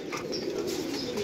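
Pigeons coo softly nearby in a low, rolling murmur, with a few faint chirps above it and no talk.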